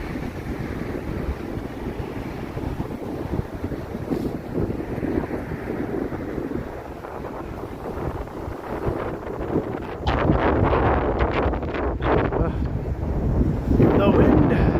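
Wind gusting along a snowy Toronto street on a freezing Monday evening, a steady roaring rush buffeting the microphone, swelling louder and rougher toward the end, with faint street noise beneath.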